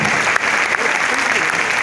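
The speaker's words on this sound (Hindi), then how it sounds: "एक बार खड़े होकर के जोरदार तालियों से वेलकम करते हैं" A large standing crowd at a spiritual gathering in Gorakhpur claps loudly and continuously, a dense, even roar of applause with no pause.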